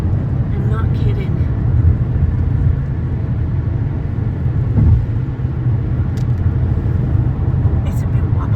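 A car climbs a mountain road with a steady low engine and road rumble running throughout, loud and close, while people talk inside over it.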